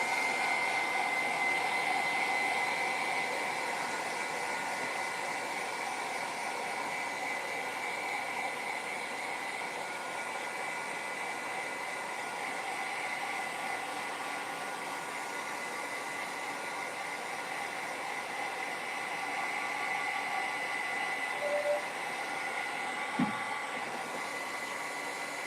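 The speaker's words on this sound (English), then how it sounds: "So I'm going to take my heat gun and I'm just going to heat set it right now." A heat gun blows steadily to heat-set ink on a stamped card, a continuous airy roar that holds near and even throughout with no voices.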